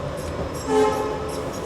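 A train horn sounds in a brief, steady tone over the low rumble of a moving train, the Jagannath Express departing Bhubaneswar.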